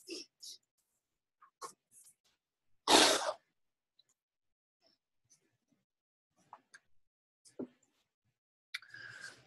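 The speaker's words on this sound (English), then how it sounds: "I'm going to sneeze." A single loud sneeze bursts out in an otherwise quiet room, surrounded by faint small noises and breaths.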